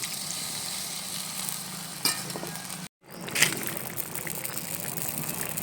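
A pan of green jackfruit curry bubbles and sizzles after water is added, a steady close simmer broken by a brief gap, with a few soft clinks.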